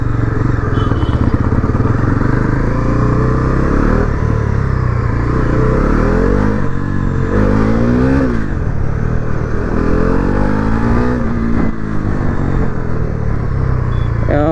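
A Bajaj Pulsar NS400Z motorcycle with a vibration problem is ridden, its engine loud and steady throughout with rising and falling revs and a faint rattling clatter mixed in.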